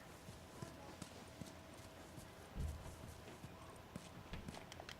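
Horse hooves clip-clop at a walking pace in the video game The Last of Us, faint, steady steps with a soft thud partway through.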